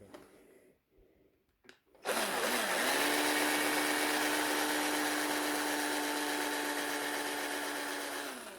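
After a few quiet knocks, a power drill with a small 3mm bit whirs up and runs steadily into wood for several seconds, a loud, close, sustained whine.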